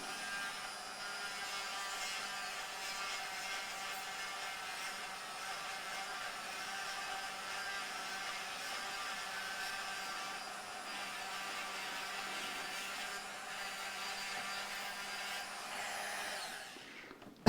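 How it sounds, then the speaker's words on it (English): A Dremel rotary tool grinds material away on a Yamaha LL 11 acoustic guitar during a setup, giving a steady, continuous high-pitched motor whine that holds evenly for about seventeen seconds and stops abruptly at the end. Nobody talks. "I'll take some more off with the Dremel"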